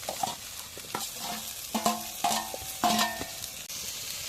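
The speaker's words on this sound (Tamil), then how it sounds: "தக்காளி கொஞ்சம் வதவுற வரைக்கும் வெயிட் பண்ணிக்கலாம்." Onions and tomatoes sauté in a pan with a soft, continuous sizzle. A spoon scrapes and clinks against the pan in several distinct strokes.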